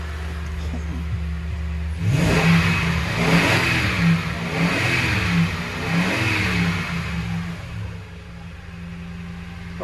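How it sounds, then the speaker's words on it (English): A 2014 Toyota Tundra 5.7L V8 engine revs up from a steady idle, rising and falling through several swells over about six seconds before settling back to idle, close and fairly loud. "Just rev it up."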